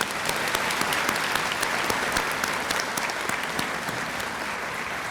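A graduation ceremony audience at Riverside gives a round of applause, an even, continuous wash of many hands clapping at moderate distance, sustained throughout.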